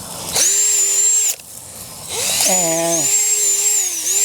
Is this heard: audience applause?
no